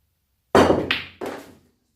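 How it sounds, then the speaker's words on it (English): A pool cue strikes the cue ball for a pot shot with screw back, giving a sharp knock and then two quick hard ball clacks that ring out briefly in a quiet room. "I'll just go for the pot here and try and screw back because I do like the shot."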